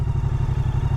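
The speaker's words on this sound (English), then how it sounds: "So I'm going to ride a little bit more on this bike" A Moto Guzzi V100 Mandello S motorcycle engine thrums steadily while riding, a close, pulsing low rumble lasting about a second with no voices.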